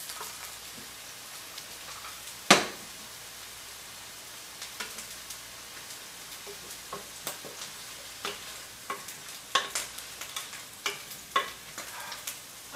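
Sausages brown in a frying pan, giving a soft, steady sizzle scattered with sharp little pops and spatters, one louder crack early on, with no talking.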